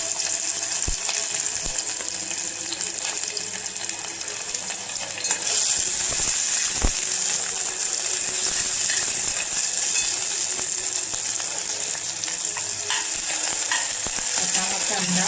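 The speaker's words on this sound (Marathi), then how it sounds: "आता हा कांदा भाजून घ्यायचा" Sliced onion frying in hot ghee for masala rice, a steady loud sizzle with occasional stirring clicks and scrapes of a spoon in the pan, no talking.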